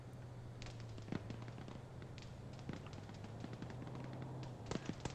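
Sporadic gunfire in Arma 3 during a modded 124-player PvP battle: scattered faint, distant shots and sharp cracks over a steady low background hum, with a small cluster of reports near the end.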